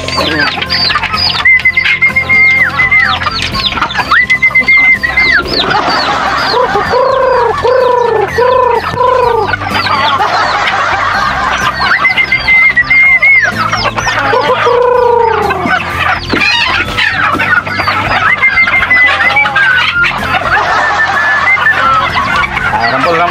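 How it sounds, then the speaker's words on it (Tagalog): A flock of chickens being fed outdoors cluck and squawk continuously, loud and busy, with drawn-out calls rising above the steady clucking. "Pakain mo tayo ng ating mga alagang chicken manok."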